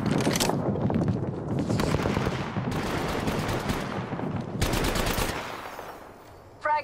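Sustained automatic gunfire in the video game Apex Legends, loud rapid bursts rattling almost continuously with brief pauses between volleys, no talk over it.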